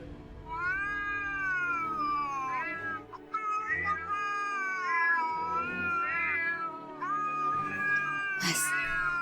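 A cat meows in long, drawn-out, wavering cries, loud and close, continuing almost without a break and ending in a sharp squeal.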